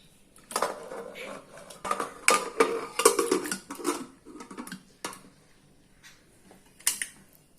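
A metal pressure cooker lid is set in place and closed over vegetables and water for aviyal, with a series of sharp clanks and rattles spread across several seconds, near and fairly loud.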